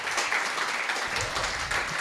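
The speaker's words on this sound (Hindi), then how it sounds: "ताली बजाना है तो बजाओ।" A conference audience claps together in a sustained, dense wash of applause that stays fairly steady and loud throughout, with no talk standing out over it.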